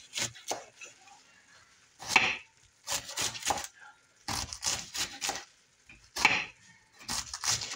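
A slightly wilted cabbage is sliced with a knife on a board in rapid bursts of crisp, crunchy chops, with pauses between the runs.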